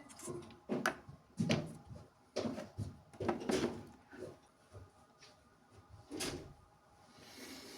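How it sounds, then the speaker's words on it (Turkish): A door is opened in a home bathroom being cleaned, giving a series of close wooden knocks, clunks and handle rattles in irregular bursts, with quieter shuffling between them. "Anneciğim kapıyı açıversene"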